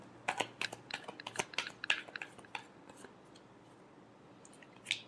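Tarot cards are shuffled by hand at close range, giving a quick run of crisp papery snaps and flutters that fade to quiet before one last brief flick near the end.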